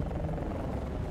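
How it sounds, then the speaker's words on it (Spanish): Russian helicopters in Battlefield: Bad Company 2 give a loud, close, steady rotor thump and engine roar on a South American river mission, with no speech over it. "Helicópteros rusos, no sé qué hacen aquí."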